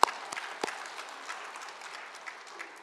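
A church congregation applauds during a sermon: a dense, moderately quiet patter of clapping that starts with a sharp burst, then settles into a steady wash for a few seconds.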